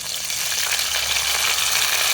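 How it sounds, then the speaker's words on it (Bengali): Chopped onion and green chili hitting hot oil in a wok make a loud, dense, continuous sizzle that fills the short stretch without any talk. "কড়াইতে তেল দিয়ে দিচ্ছি এবার দিয়ে দেবো পেঁয়াজ কাঁচামরিচ কুচি"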